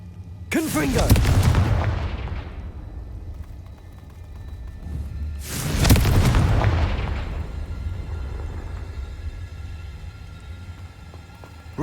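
Two loud Confringo spell blasts from Hogwarts Legacy, a few seconds apart, each a sharp booming burst with a rolling, crackling decay, followed by quiet game ambience and the onset of another hit at the very end.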